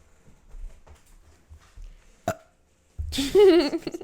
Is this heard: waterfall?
no